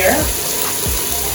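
Water poured into a container in a home kitchen while stew is being prepared, a steady close splashing rush that runs for about a second and a half.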